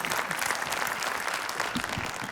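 A studio audience on the Georgian TV singing show Mimghere claps steadily in a thick, continuous wash of applause, moderately loud, with no voices over it.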